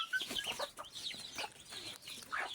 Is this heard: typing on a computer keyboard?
no